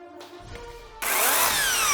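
A small handheld electric saw, bought for a first woodworking project, starts abruptly after a quieter second and runs at a loud, steady whine with a rising pitch, close up.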